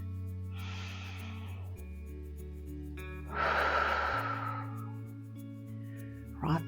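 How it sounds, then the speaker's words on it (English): Two long, audible breaths during a stretching exercise, an inhale then a louder exhale, close and breathy over a steady background music hum, with a short sharp sniff at the end. "Just breathe."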